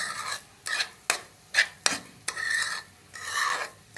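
Fried choori being mixed with sugar in a pan off the heat, loud rhythmic scraping strokes of a spoon against the pan, each stroke a gritty rasp separated by short pauses.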